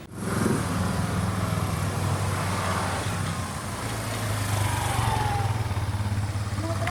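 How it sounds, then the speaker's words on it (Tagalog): A motorcycle engine runs steadily nearby, a continuous low drone that rises slightly near the end. "Bago na yung motor mo ah!"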